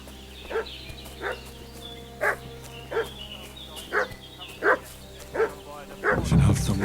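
A dog in the medieval video game Kingdom Come barks repeatedly at a steady pace, about nine yips spaced roughly half a second apart, over a low droning game ambience that swells into a louder rumble at the end.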